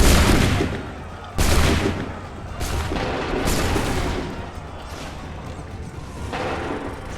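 A loud musket volley in Assassin's Creed III: heavy booming shots crack out one after another, each trailing a long rumbling decay amid distant battle noise.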